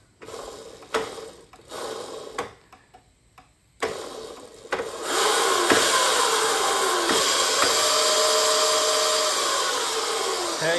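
A Razor 650 dirt bike fitted with a Makita power-tool motor spins up to full power, a steady loud whirring hum that holds constant after a few short clicks and bursts at the start.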